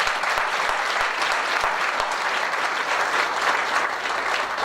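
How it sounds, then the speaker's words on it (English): Steady, full applause from a luncheon audience fills the room, dense and sustained throughout with no voices rising above it. "if we could give them a round of applause"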